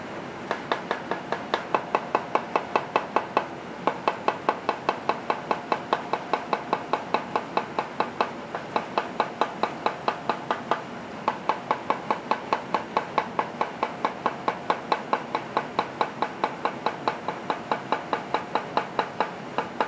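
A knife dices fresh ginger on a cutting board in a steady, rapid run of close, crisp chops that continues throughout, with no voices.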